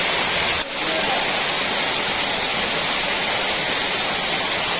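Steady, dense roar of Periyar waterfall in the Kalvarayan Hills, broadband rushing water filling the whole clip with a constant loud wash; a brief dip near the start.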